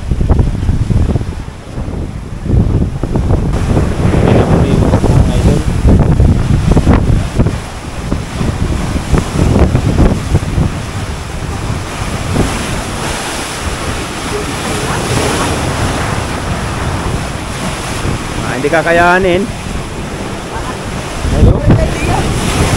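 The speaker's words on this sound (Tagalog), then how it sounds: "Oh, mga idol ang ano, alon, napakalakas." Loud roaring surf and gusty wind buffet the microphone continuously, with someone speaking briefly over the rough, crashing water.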